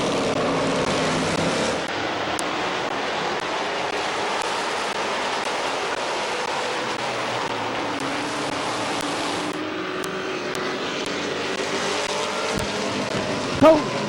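Race cars roar around Midvale Speedway at the green flag, a dense, continuous engine wash that holds steady throughout, with a commentator talking over it.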